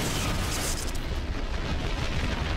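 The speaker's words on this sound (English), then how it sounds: "The explosion blows out one of the inner panels." A reenacted fuel tank explosion aboard TWA Flight 800 roars as a dense, continuous blast of sustained, loud, broadband rumble that fills the whole stretch without letup.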